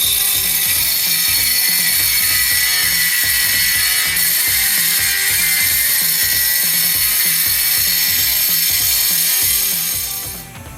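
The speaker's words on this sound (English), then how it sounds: "I'm going to go ahead and try to just do this with the old-fashioned way with the grinding wheel." A grinding cutoff wheel slices into the steel firebox opening of a 120 gallon reverse flow offset smoker, a loud continuous harsh rasp with rapid rhythmic chatter that fades out at the end.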